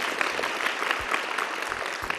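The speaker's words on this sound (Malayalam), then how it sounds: "ഒരു വെടിക്കെട്ട് കയ്യടി കൊടുത്തേ" Audience applause at a parish meet quiz at St Philomena's Church, Koonammavu, a steady dense patter of clapping throughout, moderately loud, with a few low thumps.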